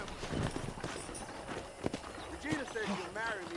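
Horse hooves clip-clop at a walking pace in Red Dead Redemption while a voice talks over them, with background noise throughout.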